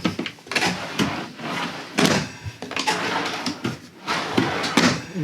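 Drawers in a 2018 Allegro RED 37PA RV kitchen slide open and shut several times in a row, each a close, loud rolling thud or knock, with no voices.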